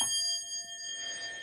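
Westinghouse elevator bell struck once, ringing with several bright sustained overtones that linger across the whole moment, alone and moderately quiet.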